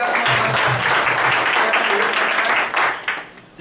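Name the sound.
audience applause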